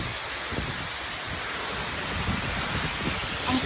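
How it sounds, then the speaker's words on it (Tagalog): A storm with strong wind and rain blows as a dense, steady roar of hiss across the whole clip, loud and unbroken, with faint knocks and gusts near the end. "Ang pakalakas guys ng hangin."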